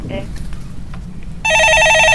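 Electronic telephone ring on a Korean call-in stock-market radio show, a steady warbling tone that starts abruptly partway through after low background noise and faint talk.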